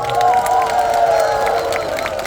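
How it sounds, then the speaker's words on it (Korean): A festival crowd at an outdoor shrimp-paste fair stage show claps and cheers, with a loud sustained roar of the audience and a tonal hum running beneath. "많은 관계자 여러분들께 뜨거운 박수를 부탁드리겠습니다."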